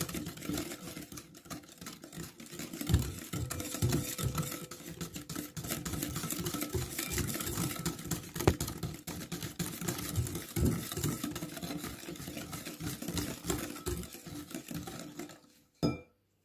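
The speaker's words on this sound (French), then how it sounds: "Je vais commencer à touiller tout doucement." A utensil stirs egg yolks with sugar and vanilla sugar in a bowl for tiramisu, making soft, continuous clinking and scraping with a brief sharper knock at the end.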